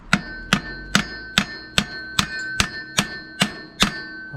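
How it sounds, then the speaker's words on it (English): A hammer strikes a seized bicycle crank about ten times at a steady rhythm, each hit a sharp metallic clang with a ringing tail, close and alone. "I think maybe shock it with a hammer a little bit and then move on to the crank."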